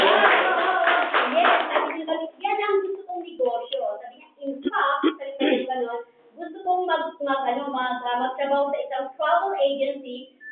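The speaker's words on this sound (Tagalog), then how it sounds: "Palakpak naman." Brief burst of clapping at the start, a couple of seconds of applause before people begin talking over the rest.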